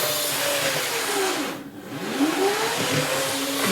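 An Atlas EMD S9 model locomotive's small electric motor runs in reverse, a steady whir with gliding whine tones that dip briefly and return, heard close and alone.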